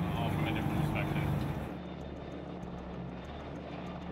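A search-and-rescue helicopter hovers over a boat, its engine and rotor wash forming a steady loud roar that drops slightly in level partway through, while a voice speaks over the noise.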